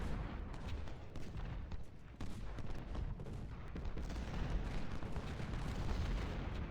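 Ultimate General: Civil War battle gunfire, with dense crackling musket volleys and scattered shots rattling continuously at a moderate distance, sustained throughout.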